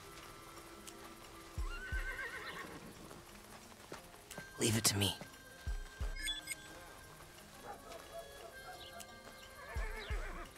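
Horses whinny loudly and hooves clip-clop in Desperados III, with a burst of neighing in the middle and scattered hoofbeats, while people talk throughout.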